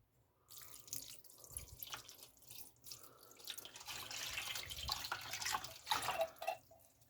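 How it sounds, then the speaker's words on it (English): Canned beef broth pours into a pot with a soft, trickling splash that builds unevenly over several seconds. It is quiet and close, with no talking. "now what I'm going to do is throw some beef broth in here"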